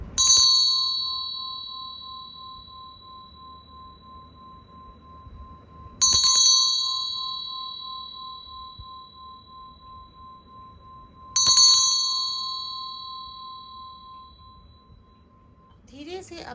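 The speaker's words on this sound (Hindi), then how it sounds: "3 तक मैं घंटी बजाऊंगी, आपको उस पर ध्यान देना है, इसकी साउंड पे।" A small hand bell is struck three times at even intervals of about five and a half seconds, each bright metallic ding ringing out clearly and fading slowly in a quiet room.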